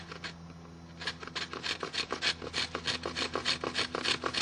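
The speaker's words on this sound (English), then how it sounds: "I'm going to take a saw and I'm going to cut" Hand saw cutting a notch in wood for a friction fire saw, rhythmic rasping back-and-forth strokes at a steady quick pace, close and fairly quiet, with no talk.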